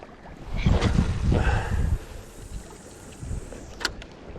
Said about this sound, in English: that wind has been horrific.